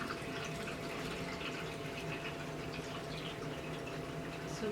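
Brewed kombucha is poured from a container into bottles, giving a soft continuous stream of liquid filling, faint and steady with no talk over it.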